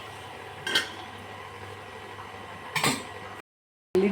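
Two clinking metal knocks, a few seconds apart, as a plate is set as a lid over a pan of aloo kurma masala cooking on a low, faint background hum; then a sudden cut to silence.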